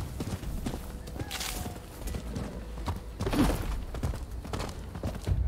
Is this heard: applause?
no